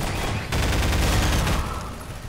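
Bursts of pulse rifle fire from Half-Life 2 crackle and thump in rapid, dense volleys, loud and close, with a brief pause before the main burst.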